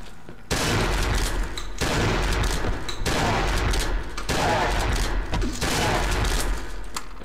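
Rapid shotgun blasts from the Cry of Fear horror game, several loud close shots in a tight burst with brief gaps, booming over a dark ambient background.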